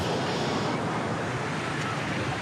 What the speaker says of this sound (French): Admirez la puissance de cette vague.